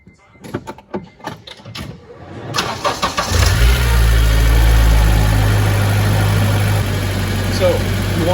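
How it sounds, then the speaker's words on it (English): A car engine cranks with a few rapid turnover bursts, catches, and settles into a loud, steady idle close by. Brief talk comes before the start. "you're gonna start the car up now"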